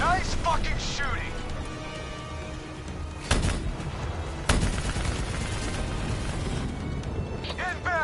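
Gunfire in a Black Ops 3 campaign battle: a couple of sharp, loud shots cut through dense combat noise and a steady rumbling din, with shouting voices and whistling effects mixed in.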